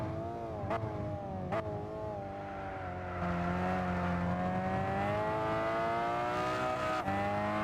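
A car engine in Gran Turismo 6 revs high and holds a sustained, rising whine, loud and close, with brief shifts in pitch and no talking over it.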